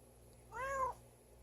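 A house cat gives one short, clear, rising-and-falling meow close by in a quiet workshop, lasting under half a second against faint background hum.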